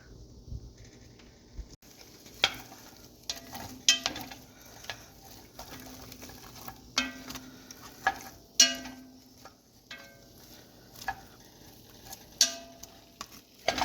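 Onions sautéing in a pan at the start of a mushroom soup, with intermittent clicks and taps of a utensil stirring over a soft, steady sizzle, close by and with no talking.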